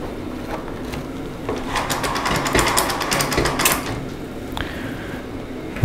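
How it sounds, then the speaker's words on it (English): A mainspring winder on a lathe-style setup winds up a watch or clock mainspring, giving close, busy mechanical clicking and ratcheting that grows denser midway and then eases off. "With a gloved hand guiding, we'll wind up the spring."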